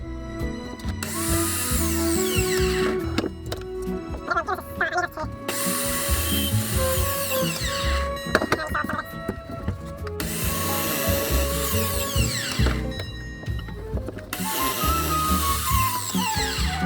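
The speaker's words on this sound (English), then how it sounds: "This is why I need a bigger drop saw." Power saw cutting timber for turned display plinths for miniatures, several loud sustained cutting passes separated by brief pauses, with talking in between.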